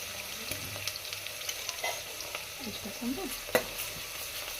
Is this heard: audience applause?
no